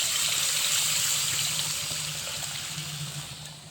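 Tamarind water pours into a pot of fish curry, a steady close splashing stream that slowly tapers off, with no voices.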